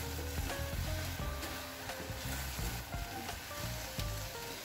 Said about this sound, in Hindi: थोड़ी देर हम और पकाएंगे जिससे एग थोड़ा सा फोम हो जाएगा।